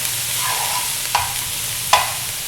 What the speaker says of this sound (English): I'm going to put all this in your pan. Stir it around.